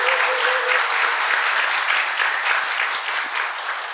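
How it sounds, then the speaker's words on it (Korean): Steady, loud applause from the audience at a Korean healthcare-industry labor-management roundtable, a dense wash of clapping that holds for the whole stretch with no voices over it. "이 자리에 참석하신 모든 분들의 힘찬 박수로 시작하겠습니다"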